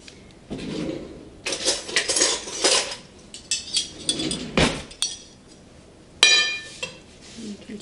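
Shrimp pasta is tossed in a pan in a home kitchen, with repeated clanks and scrapes of a utensil against metal in irregular bursts, near and fairly loud.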